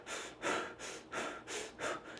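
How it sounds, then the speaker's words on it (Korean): Rhythmic, airy breathing from a single person doing a diaphragm-focused breathing exercise for choir vocal training, with about five even inhale–exhale cycles, close and fairly quiet, with no talking. "그냥 숨만 이렇게"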